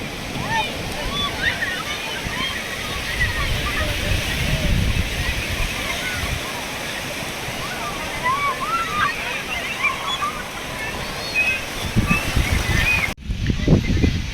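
Sea waves roll onto Calangute beach in Goa, a loud steady surf wash with wind noise, while people talk and shout nearby throughout.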